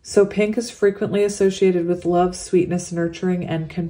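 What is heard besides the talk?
No everyday noise stands out behind the speech.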